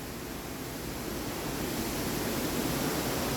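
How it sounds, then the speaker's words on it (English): Wind blowing outside on a muggy, humid day makes a steady, even rush of broadband noise that holds at one level the whole time, with no voices. "Hear that wind?"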